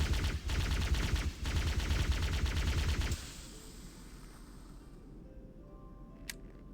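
A plasma rifle fires in a Unity-built virtual reality fan remake of Halo: Combat Evolved, as a loud, rapid stream of shots runs for about three seconds, then cuts off, leaving quiet game ambience and a faint blip.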